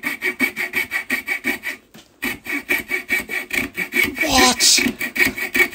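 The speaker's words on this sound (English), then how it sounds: "it's a little scroll saw that's in a, I made some holes in a bolt" A small homemade scroll-style hand saw cuts dovetail waste from wood in steady, even rasping strokes at close range, about four per second, with a brief pause midway and a short spoken exclamation over the strokes near the end.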